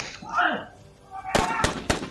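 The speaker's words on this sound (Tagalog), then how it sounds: "May mga putukan mga tol." Several firecrackers burst in quick succession, three sharp loud cracks close by after a stretch of talking, with voices heard before the blasts.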